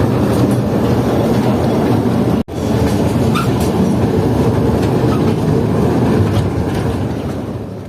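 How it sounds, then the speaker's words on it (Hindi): A toy train rolls through Changa Manga forest in Pakistan, its steady rumble and clatter running loud and close throughout, with one brief dropout partway through. "तो इस वक्त आप देख सकते हैं कि हमारी ट्रेन छांगा मांगा के जंगल के अंदर चल रही है।"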